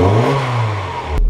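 A Mazda MX-5 engine running on a newly installed standalone ECU revs briefly up and down close by, ending in an abrupt change in tone.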